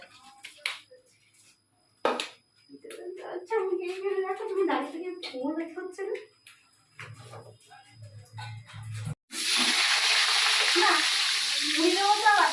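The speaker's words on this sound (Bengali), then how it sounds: "এই যে পাপড়টা ভাজা" A voice speaks first, then a loud, steady sizzle of papad frying in hot oil takes over for the last few seconds.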